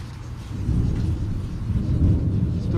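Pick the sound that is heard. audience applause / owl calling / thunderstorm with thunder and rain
thunderstorm with thunder and rain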